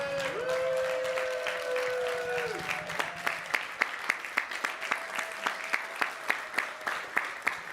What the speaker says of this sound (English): A little round of applause for Becky.